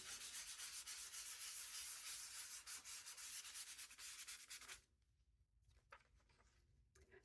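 Close, rhythmic scratchy strokes of sanding, steady and brisk, then slowing to a few lighter rubs before stopping.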